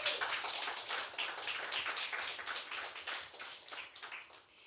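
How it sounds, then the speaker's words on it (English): Applause for a group of writers at a literary reading night, a dense steady patter of many hands that continues for several seconds, fairly faint and distant, then thins out toward the end. "So maybe you can just give a round of applause to all of them."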